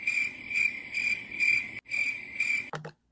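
Crickets chirp in a steady, repeating rhythm, loud and close, with pulsed trills that briefly stop near the end before a short thump cuts the sound off.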